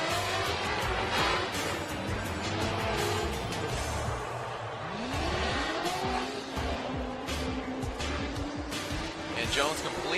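Race car braking hard through a zone, its engine note dropping as the tyres squeal in rising and falling tones, heard under steady commentary.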